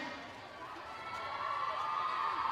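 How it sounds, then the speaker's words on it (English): Distant crowd cheering and calling out at a middle school swimming meet, a steady wash of voices in an echoing indoor pool hall that swells slightly louder toward the end. "We need some cheering."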